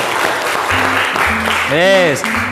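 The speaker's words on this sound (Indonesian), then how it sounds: "silakan tepuk tangan untuk kalian semuanya" Students in a 7A classroom clap for themselves, a continuous patter of hands mixed with children's voices and a brief tonal squeal over the clapping.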